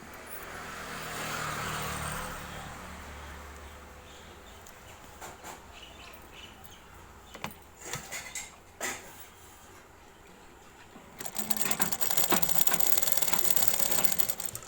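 A sewing machine stitching the round neck shape of a blouse whirs in two running bursts at the start and end, with scattered clicks and handling noises in the quieter middle.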